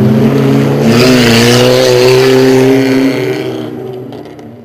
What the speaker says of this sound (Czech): se na tratích cechu na Svatém Vítu konal druhý podnik seriálu závodů v rallycrossu